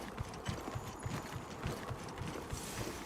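Rhythmic clip-clop of a riding mount's hooves in Monster Hunter Wilds, steady and moderately close, continuing evenly throughout with no talk over it.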